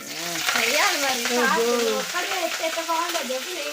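Fresh curry leaves hit hot oil in a pan with a loud, crackling sizzle that stays close and continuous, with spluttering bursts and a voice talking over it.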